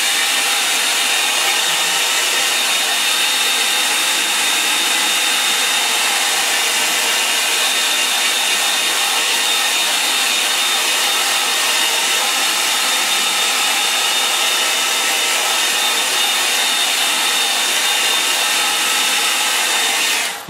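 A hair dryer blows steadily at close range to dry a wet watercolour sky painting, a continuous loud whooshing hiss that runs unbroken throughout, with no talking.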